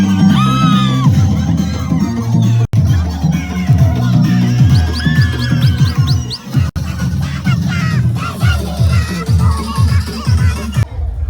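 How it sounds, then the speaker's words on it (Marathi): Villagers cheer and celebrate a bullock race win at the Aamdar Kesari 2026 event, with loud whoops, shouts and overlapping yells from a nearby crowd, and excited voices calling out continuously. "अख्खा गाववाले आमचा फुल जल्लोष चालू आहे."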